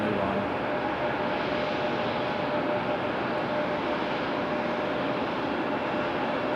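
JetBlue airliner moving at Raleigh-Durham airport, a steady broad jet roar at moderate distance, continuous and even throughout, with faint talk underneath.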